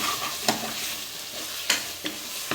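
Steady sizzling of mutton curry sautéing in a pan, with a few sharp scrapes of a stirring spoon.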